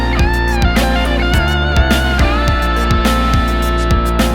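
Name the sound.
guitar solo from a recorded song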